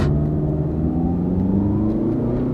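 A used car accelerating hard from a standstill, its engine note rising in pitch as the revs climb, loud and close from inside the cabin with no talking.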